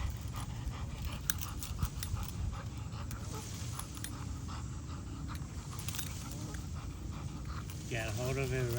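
A 17-month-old bulldog terrier pants steadily, close by, while chewing on a brand-new cowhide. A person talks over it, and there is a short whimper near the end.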